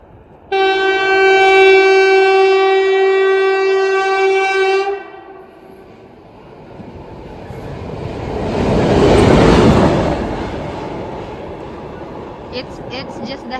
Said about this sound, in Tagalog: It's just the head of the train.